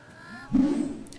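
Birds in a Google Cardboard virtual reality shooting game on Android give a short, low honking call. It rises over a faint electronic backdrop, with a brief higher tone fading in at the end.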